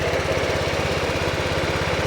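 A Honda Forza 125 scooter with a battery drain and blown fuse, idling close by with a steady, rapid, even engine putter and no speech.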